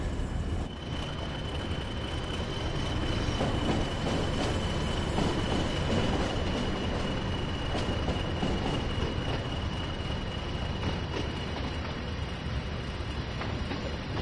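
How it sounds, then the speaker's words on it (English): A heavy British Rail freight train in the video game Train Sim World 2 rumbles along steadily, with a continuous low roar, faint rail clatter and a thin high whine from the wheels, no voices. "It's a very fine art driving these freight trains, these heavy freight trains."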